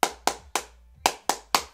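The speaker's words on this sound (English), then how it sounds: "So if I clap this one, you would clap back" A music teacher claps a short rhythm for a group to clap back: two quick sets of three crisp, close hand claps separated by a brief pause.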